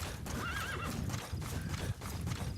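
A horse in the video game Metal Gear Solid V gallops with a steady clip-clop of hooves throughout. A loud whinny rises over the hoofbeats early on.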